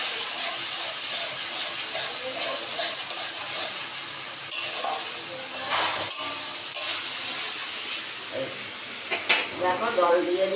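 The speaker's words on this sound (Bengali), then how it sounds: "দেখো জল দিয়ে দিলাম" Water poured into a pan of frying pomfret fish and spices brings on a loud hissing sizzle that rises and falls with bursts of bubbling and stirring, close up, with no talk.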